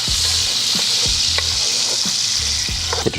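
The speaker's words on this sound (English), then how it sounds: "I start with my onions first, right? So we want to start getting these soft." Onions fry in hot oil in a pot with a loud, steady sizzle, while a utensil stirs and scrapes against the pot in intermittent low knocks, and nobody speaks.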